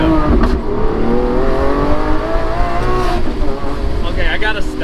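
A Lamborghini Aventador SVJ Roadster's 759 hp V12 revs and pulls hard in open-top driving, its loud rising engine note steady throughout, with a brief wind buffet and a faint voice underneath.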